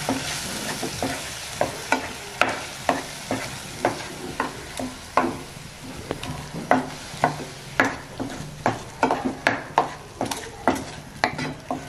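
Carrot halwa being stirred in a pan: a steady run of sharp scraping strokes in a regular rhythm, roughly two per second, over a soft continuous sizzle, close and moderately loud with no talking.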